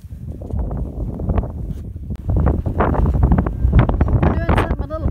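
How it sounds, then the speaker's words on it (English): Strong wind buffets the microphone in an outdoor North Texas vegetable garden, a loud continuous roaring rumble with gusty surges and rustling throughout. "You hear that wind?"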